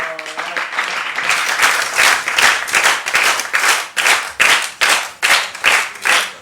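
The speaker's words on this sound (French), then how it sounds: "Est-ce qu'on peut acclamer encore?" Loud audience applause at a quiz-competition grand final, dense clapping that swells into rhythmic waves of synchronized claps toward the end, with faint cheering mixed in.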